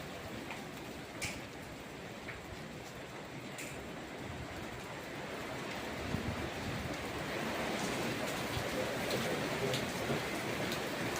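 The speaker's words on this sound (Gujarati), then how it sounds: "બરાબરનો વરસાદ આવે છે" Steady rain pouring down, a dense hiss with scattered drops and occasional sharper pattering, growing slightly heavier toward the end.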